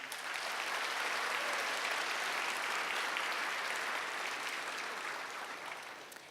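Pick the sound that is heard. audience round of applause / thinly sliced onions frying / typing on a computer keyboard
audience round of applause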